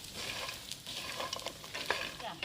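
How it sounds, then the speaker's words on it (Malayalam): Cashews and melon seeds stirred in a pan while making sugar-free dry fruit ladoo: soft, repeated scraping and rustling strokes, faint and steady throughout, with no voices. "സിജു അണ്ടിപ്പരിപ്പിട്. അണ്ടിപ്പരിപ്പിട്. നന്നായി ഇളക്ക് സിജു."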